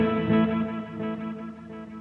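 An electric guitar in a surf-rock rig, run through a Boss Space Echo RE-202 with reverb switched on, rings out a sustained chord that blooms and slowly fades over two seconds, heard alone and fairly loud.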